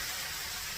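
A whole can of pineapple dumped into a pan beside pork chops, a brief wet pouring rush of juice and fruit, close and fairly soft.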